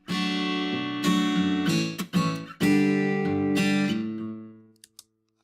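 A virtual acoustic guitar from the free AGML 2 VST plays a strummed pattern at high velocity, several bright chord strokes in a rhythmic sequence that rings out and then decays with a few short clicks, no voices.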